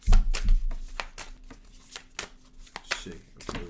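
Tarot cards being shuffled by hand in a run of crisp riffling and tapping bursts, near and fairly loud, with a few soft clacks between them and no talk.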